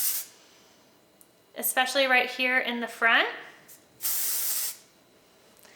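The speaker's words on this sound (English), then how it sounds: "what I like to do is spray underneath the hair," R&CO Outerspace Flexible Hold hairspray gets sprayed in two short, close hissing bursts, one at the start and one after someone speaks.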